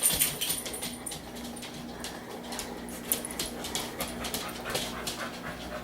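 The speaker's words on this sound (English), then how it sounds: "Warren likes it when dogs lick him." Several dogs crowd close around a man, panting steadily with soft whimpers and scattered licking and shuffling sounds, fairly quiet and continuous throughout.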